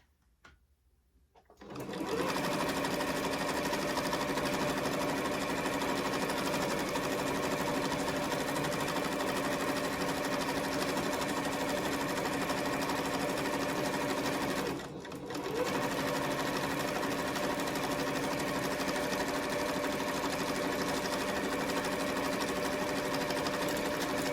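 A sewing machine stitches a half-inch seam allowance, starting with a short backstitch. It runs as a steady, close mechanical whir for over twenty seconds, with one brief pause partway through, and no one talks.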